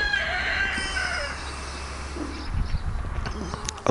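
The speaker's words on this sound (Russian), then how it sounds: "Куры кукарекают, точнее петухи." A rooster crows loudly on a quiet rural morning in Zelenchukskaya below the Caucasus mountains, one long drawn-out call near the start, followed by softer clucking and faint farmyard noise.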